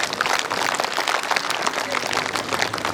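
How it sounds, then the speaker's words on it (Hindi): Students at a school yoga day celebration clap loudly together, a dense, continuous burst of crowd applause filling the space. "अपने लिए जोरदार ताली बजाइए"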